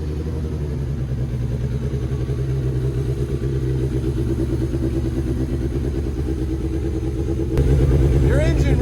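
A Rush SR race car engine runs steadily after a full motor swap, a loud continuous low rumble that swells louder near the end.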